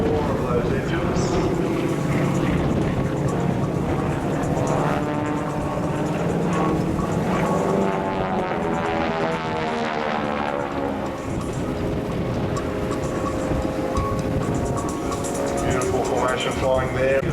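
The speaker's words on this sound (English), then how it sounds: "let's listen to the roar of those engines." A US Navy F/A-18F Super Hornet performs a solo display at the 2009 Australian International Air Show, its jet engines roaring continuously, swelling and sweeping in pitch as it passes, with a voice talking over it.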